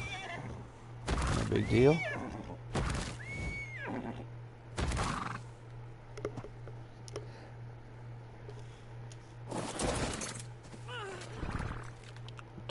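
A horse in Ark: Survival Evolved whinnies loudly in a quick rising-and-falling neigh, followed by a shorter snort-like call, amid game noises and a steady low hum, while someone talks briefly.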